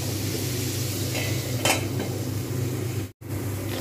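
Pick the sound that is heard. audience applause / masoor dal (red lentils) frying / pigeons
masoor dal (red lentils) frying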